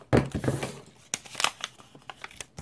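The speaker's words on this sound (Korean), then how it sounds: "색종이를 반으로 접고 대각선으로 잘라서 다이아몬드를 만들어 주세요" Close colored paper handling: crinkling, folding rustles and a few crisp scissor snips, irregular and fairly quiet, with scattered pauses between sounds.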